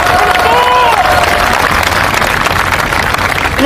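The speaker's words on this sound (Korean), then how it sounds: "여러분들 공감하신다면 뜨거운 박수 한번 같이 쳐보시면 좋겠습니다." A large crowd at an outdoor democracy rally claps loudly and continuously, a thick roar of applause with a faint sustained tone and crowd noise beneath it.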